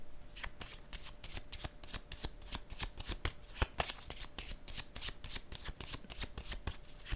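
Tarot cards being shuffled, a brisk run of rhythmic riffling snaps and slaps, close and fairly quiet, with no talk over it.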